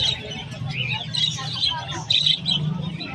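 Lutino parakeets at the Malabon pet market chirp in a busy overlapping chatter, with market voices and crowd noise running underneath.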